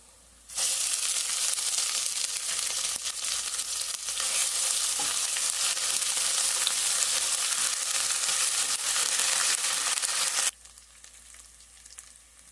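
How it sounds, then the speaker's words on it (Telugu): Ginger garlic paste frying in hot oil for a chicken curry, a loud, steady broadband sizzle that starts abruptly, holds for about ten seconds with faint stirring, then cuts off. "అల్లం వెల్లుల్లి పేస్ట్ చక్కగా ఉడుకుతుంది"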